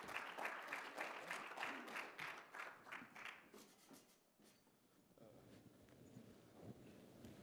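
Audience applause for presenters at a sports analytics conference, quiet and somewhat distant, building briefly then fading after about four seconds into low room murmur.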